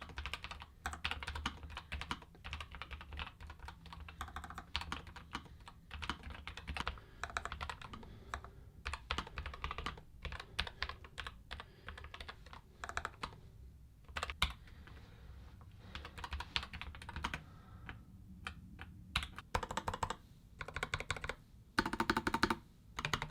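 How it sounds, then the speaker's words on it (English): Fast typing on a NuPhy Air60 V2 low-profile mechanical keyboard, a dense stream of close, crisp key clacks in irregular bursts with brief pauses, no talking. "you get quite a nice low frequency actuation when you are tapping those keys."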